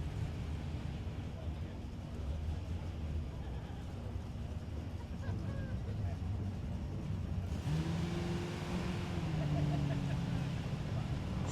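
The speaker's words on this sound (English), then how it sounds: "Scribner in the street race small block, naturally aspirated Fairmont. Whatever that sounds, it sounds pissed, and it is" A small block, naturally aspirated Ford Fairmont wagon drag car at a street race event, its engine droning steadily and then pitching up in revving surges, heard from a distance through a broad wash of crowd and track noise.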